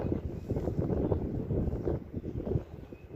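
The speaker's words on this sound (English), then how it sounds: "the wind picked up" Strong wind buffets the microphone on a fishing boat out on the water, a loud, gusty rumble that rises and falls with no voices over it.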